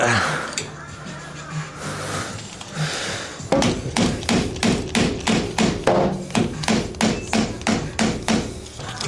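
Steady metal-on-metal hammer blows drive out the worn bushings of a vehicle leaf spring, loud and close, landing in an even rhythm of roughly two strikes a second after some preliminary shuffling and tapping.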